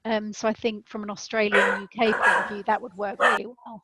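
A dog barks in short bursts at home, yelping over and between the steady speech of a presenter talking in the foreground.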